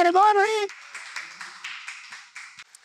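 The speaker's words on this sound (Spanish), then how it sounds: "un fuerte aplauso" A brief loud vocal shout opens, then a small audience at a live show claps in a thin, scattered round of moderate loudness that fades out.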